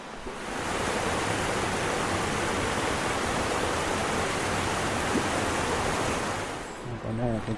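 A waterfall beside the Nakasendo trail between Magome and Tsumago in Japan, a steady broadband rush of falling water holding close and loud for most of the clip before fading, with brief voices at the very end.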